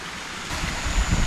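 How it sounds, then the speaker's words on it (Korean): Rushing water pours continuously nearby, a steady broadband wash with no other sounds. "여기 뭐 물 떨어지는 소리가 들리는데"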